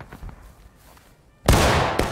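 Sharp, loud musket shots in the American Civil War game War of Rights: faint distant pops early, then a close, heavy blast that rings and decays, followed by another crack.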